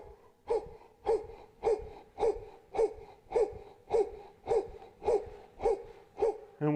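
Loud, wheezy, rhythmic breathing during Cellercise rebounding exercise, a steady in-and-out pattern of about eleven raspy, hoot-like breaths, close to the microphone with no talking.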